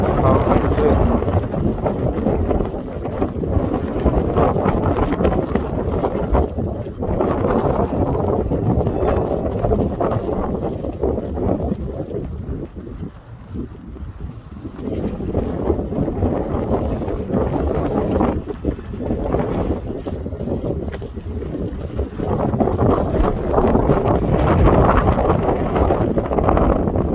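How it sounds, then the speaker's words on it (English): Strong wind buffets a handheld microphone outdoors during a Toronto winter snowstorm at minus 11 degrees, a continuous loud rushing roar with gusty surges and dips throughout. "Wow, the wind is blowing quite a bit."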